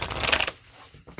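A quick burst of papery tarot card shuffling, close and fairly loud, for about half a second before falling quiet.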